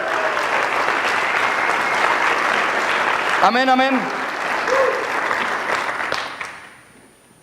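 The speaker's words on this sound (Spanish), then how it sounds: "Dale un aplauso a Jesucristo." A church congregation bursts into loud, sustained applause for Jesus Christ, a voice calling out over it briefly midway before the clapping fades out near the end.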